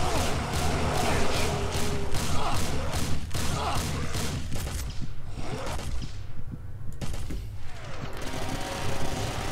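Rapid, sustained minigun fire in the video game Zombie Nightmare, a dense stream of fast regular shots with thumps and whooshing effects mixed in, continuous and loud throughout.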